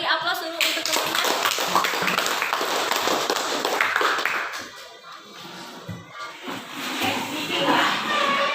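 Schoolchildren in a classroom applaud their classmates with a dense burst of clapping for several seconds that thins into scattered claps and taps, while a teacher's and children's voices talk over it.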